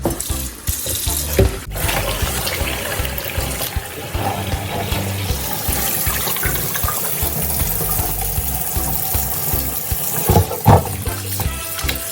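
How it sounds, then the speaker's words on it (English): Tap water runs steadily into a sink as beef for pepper steak is rinsed to wash off baking soda, a continuous close splashing flow with a few louder bursts and clatters, no talking. "then we go on our next step to rinse our meat"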